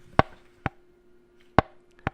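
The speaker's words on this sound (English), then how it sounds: "press a plastic cup till it makes this popping noise" Plastic cup pressed until it pops, four sharp crackling pops at uneven intervals, close and fairly quiet, with near silence between them.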